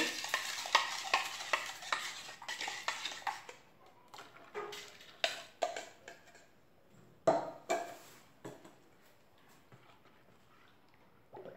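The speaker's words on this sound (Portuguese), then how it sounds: "Mexendo." A batch of homemade liquid soap with bicarbonate being stirred by hand, with repeated close scraping and sloshing strokes in an irregular rhythm, loud at first and then more sparse.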